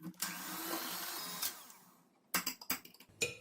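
An electric hand mixer whirs steadily at medium speed for about two seconds whisking apple cake batter, then stops, followed by a few sharp clinks and taps of beaters against a bowl.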